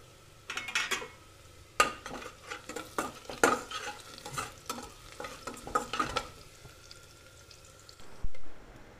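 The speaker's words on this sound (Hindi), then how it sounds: "अब कटे हुए प्याज डालेंगे। प्याज को हम ब्राउन होने देंगे।" Chopped onions fry in a pan for sprouts khichdi while a metal spoon stirs them briskly, giving repeated close scrapes and clinks over a soft, steady sizzle.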